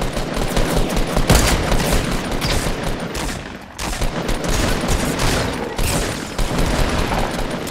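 Dense, continuous automatic gunfire from a Fortnite Battle Royale squads match, loud and sustained for several seconds with brief dips in intensity, heard alone without talk.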